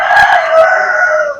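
A rooster at a poultry shop crows loudly and close, one long drawn-out call that holds steady before fading, with a few sharp clucks at its start.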